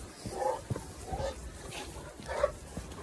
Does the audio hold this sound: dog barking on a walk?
yes